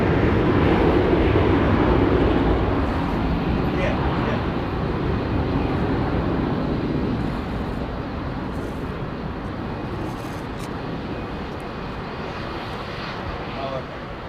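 A Boeing 737 Max at London Heathrow passes with a steady engine rumble that is strongest early and slowly fades, while people talk faintly in the background.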